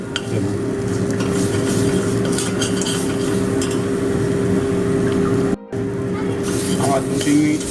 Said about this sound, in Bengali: এরপর আমি তুলে দেবো ম্যারিনেশন করা চিকেন